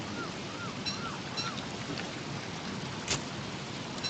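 Steady rain pours down across a game world in Don't Starve, a dense continuous hiss with faint chirps and one brief crackle near the end, no voices present.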